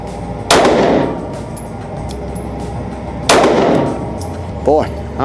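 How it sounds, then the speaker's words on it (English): Two sharp shots from a Taurus GX2 handgun fired slowly at targets ring out about three seconds apart, each with a ringing tail, and a fainter metallic clink follows near the end. "But for now, we're gonna shoot slow and steady."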